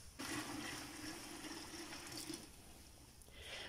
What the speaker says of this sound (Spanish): Lo siguiente, y con mucho cuidado, va a ser vaciar el agua hirviendo sobre esta cubetita.